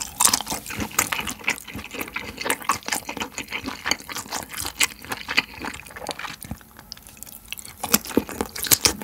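Whole canned Spam ham being eaten: wet, squishy chewing and biting bursts repeat close up throughout, with no talking.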